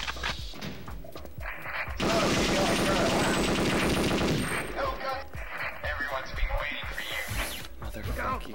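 Rapid automatic gunfire bursts in a chaotic video game rescue match in deep space, with a long sustained volley in the middle and scattered shots and mechanical clatter around it, while players talk and shout over the action.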